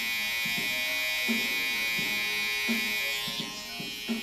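Electric hair clippers buzz steadily and close up while the blade corners trim a combover haircut, with short rhythmic dips and swells in pitch as the clippers press into the hair.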